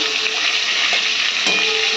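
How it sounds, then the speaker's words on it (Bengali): A katla fish head fries in a pan, giving a loud, close, continuous hiss and sizzle of hot oil with slight surges in intensity. "এবার ভালো করে মাথাটা ভেজে তারপরে শাকগুলো দিয়ে দেবো"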